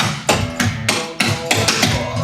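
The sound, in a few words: clogging dance steps, pump touches tapping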